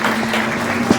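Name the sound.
audience applause for visitors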